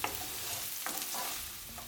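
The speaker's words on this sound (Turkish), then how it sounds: "Bir tane küçük yemeklik doğradığım soğanı ilave ederek 4-5 dakika kavuruyorum." Soft sizzling of chopped onions frying in olive oil, with a few light stirring scrapes, quiet and close.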